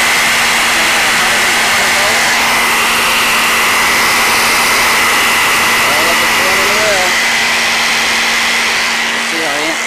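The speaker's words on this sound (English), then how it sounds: "Got my shop vac turned on and I'll squeeze the handle of my jigsaw at the same time." A shop vac and a jigsaw run together off a homemade 4047-chip inverter, making a loud, continuous motor roar with a steady hum and whine that holds for the whole stretch, no voices.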